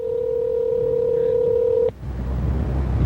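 A telephone number being dialed on a phone line: a steady tone holds for nearly two seconds, then cuts off abruptly, followed by a low background hum.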